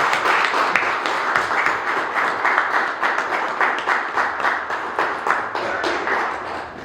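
A Pentecostal church congregation applauds to welcome a speaker at a Holy Communion Sunday service, with steady, moderately loud clapping throughout and no talking.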